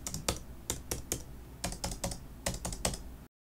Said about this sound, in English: The Craft keystroke sound is higher pitched and louder.